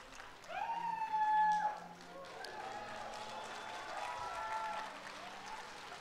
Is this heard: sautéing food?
no